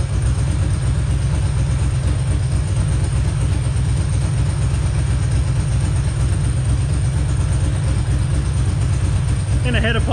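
A Ducati 2V engine runs at a steady idle, heard close at the muffler as a constant low, throbbing rumble, with brief talk near the end.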